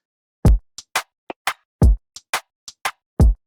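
Programmed dancehall drum pattern built in FL Studio: deep kick thumps spaced around crisp snare and short hi-hat ticks, a sparse syncopated groove of about a dozen sharp hits, loud and dry with no voices.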